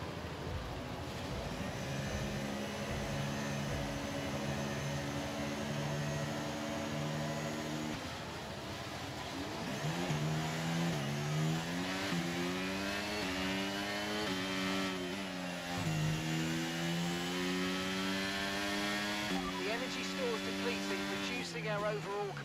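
Formula 1 car engines in the F1 23 video game at Silverstone build a sustained, layered whine, with rising and shifting pitch from the launch onward, continuous and moderately loud as a voice talks over it.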